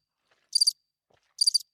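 Two short bursts of cricket chirping, each a quick pulsed trill, separated by silence and heard alone with no talk.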